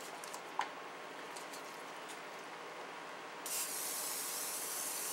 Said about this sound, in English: With vegetable spray.